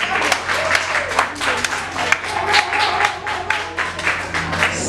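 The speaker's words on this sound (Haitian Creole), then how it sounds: "Je vais demander un gros bravo." An audience gives applause for Madame Hélène at a gathering, a dense wash of many hands clapping steadily at close range, with some voices mixed into the crowd.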